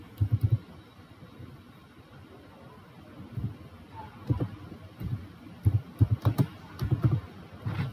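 A computer keyboard is being typed on in short bursts of quiet clicks with pauses between them, close by and faint against a soft background hiss.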